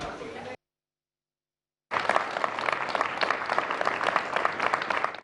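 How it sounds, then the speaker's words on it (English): Crowds of people across the United Kingdom clap for key workers, a dense, sustained round of applause heard at a distance after a brief gap of silence. "people across the United Kingdom gave a round of applause for key workers leading the fight against coronavirus"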